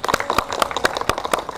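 Sparse hand clapping from an audience at a talk show and public-speaking practice event, a few loose claps in an irregular rhythm, moderately near.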